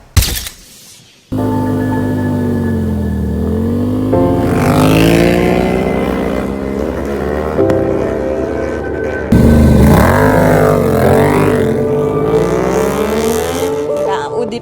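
Racing motorcycles roaring off the line in a 400 m standing-start drag race, loud close engines revving high and climbing through gear changes with overlapping whines, after a brief quiet moment at the start.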